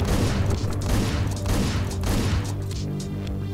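Rapid booming gunfire from a shotgun in Hotline Miami 2, several loud blasts in quick succession over pulsing game music, with no speech.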